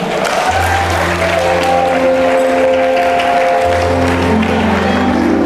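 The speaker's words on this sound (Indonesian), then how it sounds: "Kita beri tepuk tangan buat Tuhan." Sustained applause from a crowd at a Christmas celebration, dense and even throughout, with an organ-like tone or voices holding notes underneath.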